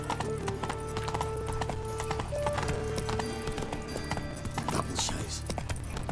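Hooves of Roach, the horse in The Witcher 3, clip-clopping at a steady rapid gait, loud and close over continuous game music and ambience.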